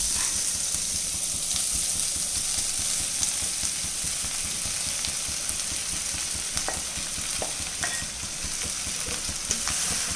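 Cooked rice added to masala frying in a pan, a dense steady sizzle with scraping stir strokes and occasional clicks, close and continuous with no talk.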